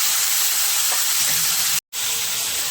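Tomatoes hit a pan of sizzling sponge gourd curry, giving a steady, loud frying hiss throughout, broken by one brief silent gap before the sizzle resumes.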